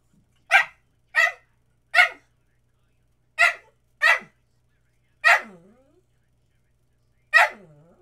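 A puppy barks in a series of short, sharp yaps spaced irregularly over several seconds, loud and close in a quiet room, with a couple of the later barks trailing into brief whimpers.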